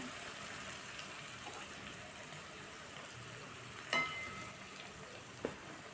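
Finely chopped bitter gourd (karela) added to a prepared masala frying in a pan, a soft steady sizzle with a few faint clinks of utensils, close and quiet, with no talking.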